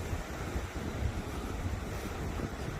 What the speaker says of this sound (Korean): 그리고 파도가 좀 있고